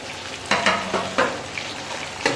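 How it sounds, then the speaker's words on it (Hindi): Crushed garlic, ginger and green chilies sizzle in hot oil with a steady crackle, punctuated by several sharp stirring scrapes and clacks close by. "अब हम इनको उस वक्त तक भूनेंगे कि इन तीनों चीज़ों का कच्चापन ख़त्म ना हो जाए"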